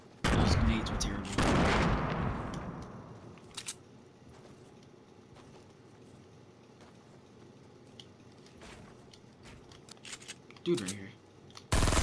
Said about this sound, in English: He hit me with the revolver.